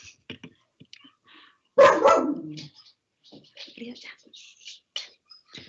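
One loud bark from a nearby dog, with soft speech before and after it.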